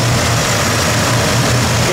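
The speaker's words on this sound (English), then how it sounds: "Engine runs very smooth also." The V8 engine of a 1971 Oldsmobile Cutlass convertible with an Edelbrock carburetor and a performer intake idles loud and close. It gives a smooth, even, low rumble with a steady pulsing throb.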